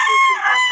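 A hen at a gamecock poultry market in Bocaue calls in one short, loud, strained cackle, heard close up and lasting under a second.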